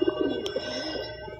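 Madrasi Kalsara pigeons, a breeding pair, coo softly in a short, low burble close by, with a faint chirp partway through.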